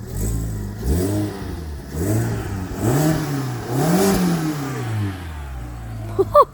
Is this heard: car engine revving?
yes